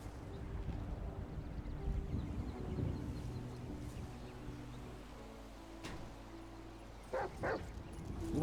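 In a video game, a dog gives faint, intermittent barks, yips and whimpers over a low, busy background hum, with a few brief sharper sounds near the end.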